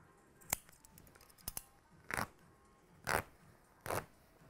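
Scissors snip a garment apart along its side seam in a handful of separate, crisp cuts spaced about a second apart, close and fairly quiet in an otherwise still room.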